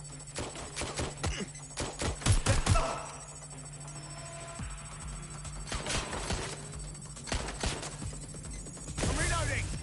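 Gunfire in the video game Watch Dogs: Legion comes in rapid, loud bursts of shots, clustered early and again midway, with a voice speaking between them.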